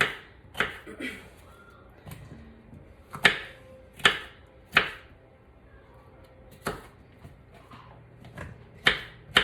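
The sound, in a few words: knife chopping bell peppers into strips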